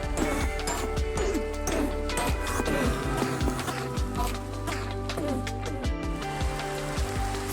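Steady rain falling in Minecraft Java Edition, a dense continuous patter and hiss that stays even throughout, layered with a faint tonal background.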